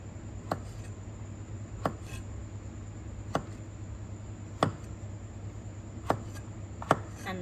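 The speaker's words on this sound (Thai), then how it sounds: "แล้วจากนั้นหั่นเห็ดไว้ค่ะ" A knife chops oyster mushrooms on a cutting board, giving six sharp, separate knocks spaced about a second apart over a faint, steady room hum, with no talking.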